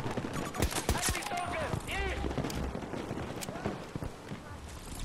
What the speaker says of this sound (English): Just popping shots off in the air.